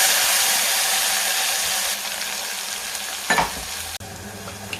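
Spice masala for kat vada sizzles loudly in hot oil, a dense steady frying hiss that drops slightly partway through, with one scraping stir and a brief knock near the end.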